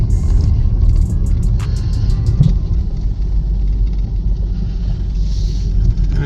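A car out on a short test drive after an electrical fault with a battery warning light, its steady road rumble and engine drone continuous and fairly loud throughout, with a few faint high ticks early on.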